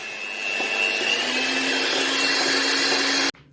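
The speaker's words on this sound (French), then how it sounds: "À l'aide d'un batteur, je monte mes blancs d'œufs en neige." An electric hand mixer whips egg whites to stiff peaks for a strawberry Easter layer cake, a steady close whirring drone that runs for about three seconds and then cuts off abruptly.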